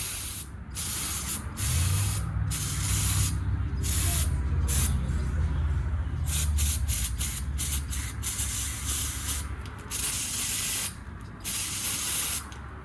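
Aerosol brake cleaner sprays in a long series of sharp hissing bursts of varying length during body work on a 1983 Chevy G20 cowl hood, loud and close with brief pauses between shots.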